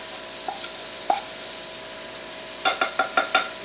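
Flour stirred into a little bacon grease in a small pan on rising heat, a soft steady sizzle with a few scraping stirs, then a run of quick spoon knocks near the end, close and alone.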